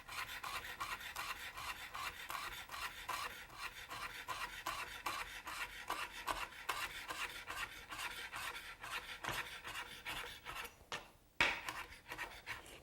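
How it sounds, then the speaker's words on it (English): A knife slices through a bunched roll of mint leaves on a cutting board for chiffonade, giving quiet, close, rhythmic scraping cuts in a steady series, with one sharper knock near the end. "What you actually do is roll up the leaves together and then slice through them"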